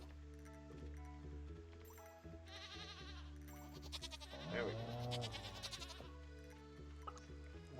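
Goats in the farming game Stardew Valley bleat in a few quavering calls, the loudest near the middle, over continuous background game music, while someone speaks briefly.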